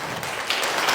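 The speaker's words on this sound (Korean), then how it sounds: "박수" Brief burst of audience applause at a seminar, a steady dense patter of many hands clapping that swells slightly toward the end, with no talk over it.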